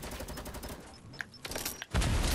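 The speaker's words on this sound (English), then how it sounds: "It's one of the sticky grenades." Sticky grenade and weapon fire in a first-person shooter game, rapid gunfire and faint game tones followed by a sudden loud, dense blast that fills the final half second.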